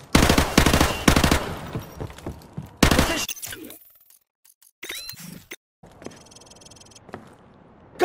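Bursts of rapid automatic gunfire hit targets in a Call of Duty training course, loud clustered volleys at the start, then sparser shots, mechanical clicks and quieter gaps toward the end.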